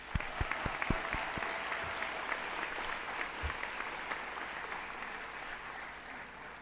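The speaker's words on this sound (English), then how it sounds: "I think we deserve a pat on our shoulders and a round of applause." Sustained applause from a graduation commencement audience, a dense steady patter of many hands clapping with a few louder close claps at the start, continuing evenly without voices.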